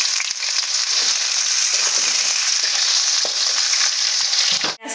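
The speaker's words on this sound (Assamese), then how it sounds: "পিঁয়াজখিনি মই ভালদৰে ভাজি ল'ম।" Chopped onions sizzling in oil with bay leaves for a home-style mutton curry, a steady loud crackling fry with occasional stirring scrapes and a short clunk near the end.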